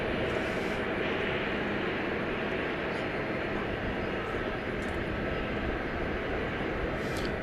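Airplane taking off from runway 18 right at DFW Airport at night, a dense broadband engine roar that holds steady and loud across the whole stretch, with faint higher tones sitting above it.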